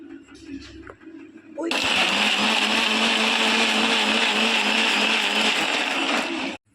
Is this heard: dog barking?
no